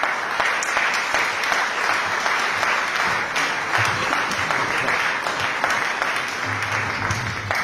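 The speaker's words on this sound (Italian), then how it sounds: "Adesso un applauso al nostro maestro, il direttore del nostro coro" An audience at a choir concert of Abruzzese folk songs gives the choir conductor steady, dense applause. The sustained clapping from many hands fills the hall at an even loudness, with no talking over it.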